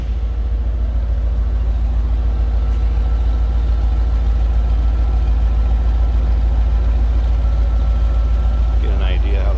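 A 1990 Chevrolet Corvette with a TPI 5.7-litre V8 idles steadily, a constant low rumble close by throughout with no revving, and a brief voice near the end.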